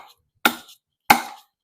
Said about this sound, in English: Would you do this kind of chopping with the knife?